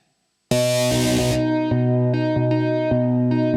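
A distorted synth tone from a Novation Circuit patch imitating an electric guitar plays, starting with a bright noisy attack and then sustaining while the pitch slides down in steps like a guitar slide.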